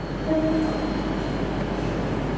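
A train from Manchester arrives at a platform in London Euston station, a steady loud low rumble of rolling stock and a brief two-tone squeal or horn-like note early on, with no voices.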